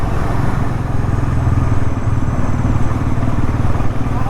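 A Bajaj Pulsar NS 400 motorcycle rolls along slowly on a rough road, its engine giving a close, steady low chugging drone with a fast pulsing beat and no pauses.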